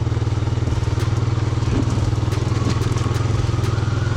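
A 1987 Honda TRX 250 ATV engine chugs loud and close in a steady low throb while riding down a dirt hill covered in loose leaves, with light clattering and crackles over the continuous drone.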